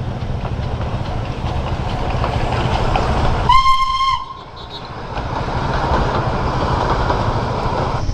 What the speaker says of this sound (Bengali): এই দেখো টয় ট্রেন।